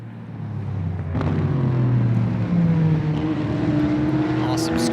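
Corvette and Porsche 911 GT race cars roar around Road America in a close pack, engine notes rising and shifting as they pass at a distance, while a commentator talks over them.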